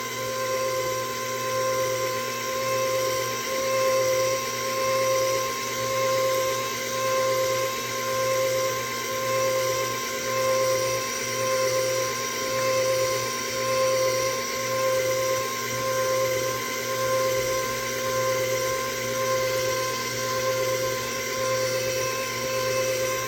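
An electric hand mixer whirs steadily and continuously while beating egg yolks, added one at a time, into a cinnamon roll batter. The hum holds a constant pitch with a slight rhythmic wobble, close and moderately loud, and nobody speaks.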